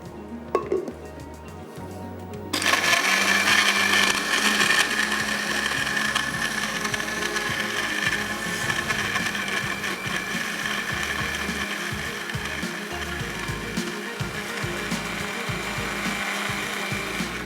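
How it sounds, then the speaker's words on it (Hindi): A kitchen blender crushing ice cubes with milk and vanilla ice cream, a loud continuous grinding whir that starts abruptly after a short quiet pause and keeps going steadily. "आइस क्यूब्स और वनीला आइसक्रीम। इसको करना है हमने अच्छे से ब्लेंड।"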